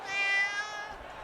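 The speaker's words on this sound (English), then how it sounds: "He takes a second glance and recognizes Stringer, the cat" A cat in an audio story gives one clear, drawn-out meow, loud and close, with no talk over it.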